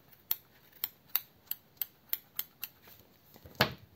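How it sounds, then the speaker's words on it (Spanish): Scissors snipping the stuffing inside a crochet doll's head: about ten quiet, sharp clicks in a steady rhythm, close up, followed by a rustle at the end. "ahí dentro vamos a cortar un poquito el relleno, así con las tijeras, un poquito."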